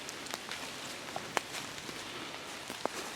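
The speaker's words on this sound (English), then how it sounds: "It's raining pretty hard" Heavy rain falling steadily on a wooded ridge during an autumn archery deer hunt in Pennsylvania, a dense even hiss with scattered sharper drops pattering close by, no voices.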